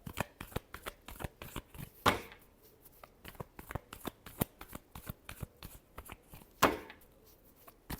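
Tarot cards being shuffled in quick riffling bursts, a rapid run of close, crisp card flicks with two louder snaps, steady throughout and with no voice.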